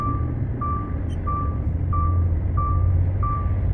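Reversing alarm on a truck at a narrow factory yard in Spain: a steady series of six evenly spaced single beeps over a constant low engine rumble, no talk.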